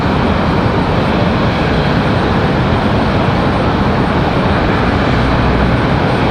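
An Aeromexico Embraer E190 jet airliner pushing back at Raleigh-Durham International Airport, its engines giving a loud, steady broadband roar that holds without letup throughout.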